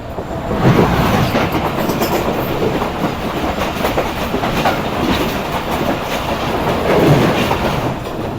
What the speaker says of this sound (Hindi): ये आ रही है सामने से लाहौर कराची के दरमियान चलने वाली 42 डाउन कराकरम एक्सप्रेस